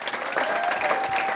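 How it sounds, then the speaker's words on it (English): Applause breaks out at a university press conference introducing a new varsity bowling head coach, a short, steady burst of clapping from the gathered audience. "Applause, please."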